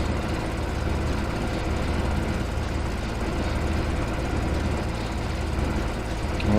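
Mower machinery running steadily in Farming Simulator 15 behind farm sheds, a continuous loud engine drone with a rough, rattling hum that holds level throughout.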